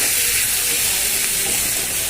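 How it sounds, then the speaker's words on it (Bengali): Sliced onion and whole garam masala sizzling in hot oil in a home kitchen pan, a loud, steady, close-up hiss and crackle throughout. "এখানে তেলের মধ্যে গোটা গরম মশলা ফোড়ন দিয়ে আর পেঁয়াজ দিয়ে দিয়েছি"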